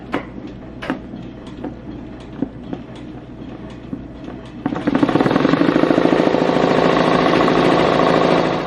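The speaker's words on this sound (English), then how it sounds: "Now we are all set to start stitching." A Redline embroidery machine starts up after a few scattered clicks, then settles into a loud, steady, rapid mechanical stitching clatter that runs on without a break.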